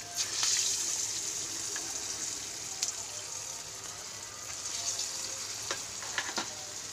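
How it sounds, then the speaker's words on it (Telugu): Moong dal fritters (pesara punukulu) deep frying in plenty of oil in a kadai, a steady bright bubbling hiss with a few sharp crackles and pops, close and continuous without speech. "ఇది డీప్ ఫ్రై కదా, కొంచెం ఆయిల్ ఎక్కువనే పడుద్ది."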